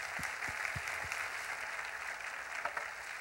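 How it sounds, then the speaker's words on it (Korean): A church congregation applauding during a worship service, a steady wash of clapping from a crowd that holds at a moderate level for a few seconds, with a few sharper claps near the start. "하나님께 박수 주세요."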